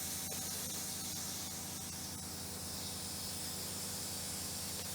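Acetone blown through an airbrush to clean it, with the pump running: a steady, close, continuous spray hiss held at even loudness throughout, with no talking.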